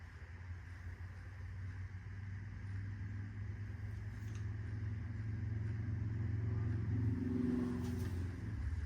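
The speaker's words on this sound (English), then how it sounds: "You guys can hear a lot of traffic, I'm sure." Outdoor road traffic passing nearby, a continuous low engine rumble and tire drone that swells slightly louder toward the end.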